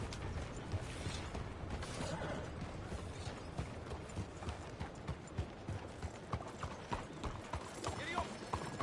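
Horse hooves clip-clop in the Red Dead Redemption 2 video game, a quiet, rhythmic run of hoofbeats with faint creaks of tack, steady throughout under soft background sound.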